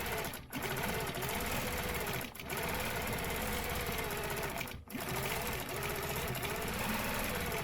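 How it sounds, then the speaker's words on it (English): A sewing machine stitches quilted feather designs along a chalked wavy spine, with a close, continuous rapid mechanical hum broken by three brief pauses. "let's go ahead and stitch these feathers"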